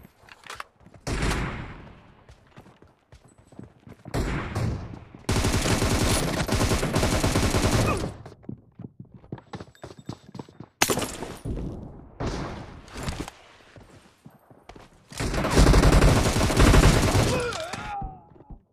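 Gunfire in the mobile battle royale game PUBG Mobile: loud bursts of rapid automatic shots in long sustained volleys, broken by quieter gaps with single thumps and brief game sounds.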